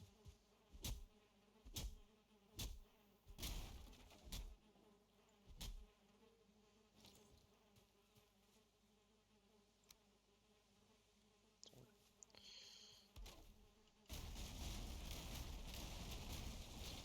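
Bees buzz in Valheim, a Viking survival video game, with a steady drone under a run of sharp, loud thumps and clatter early on, then a louder, broader rush near the end.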